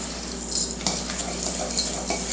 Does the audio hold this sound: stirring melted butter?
yes